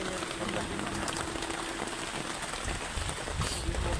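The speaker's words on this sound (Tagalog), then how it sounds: "maulan talaga mga gar" Steady rain falling outdoors while people shelter from the cold, a dense continuous hiss of drops close by, with no break and some faint activity mixed in.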